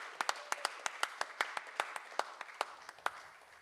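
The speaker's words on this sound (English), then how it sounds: "Let's get a round of applause." Scattered hand claps from a small church audience, a dozen or so distinct near claps rather than a full round of applause, slowly thinning out.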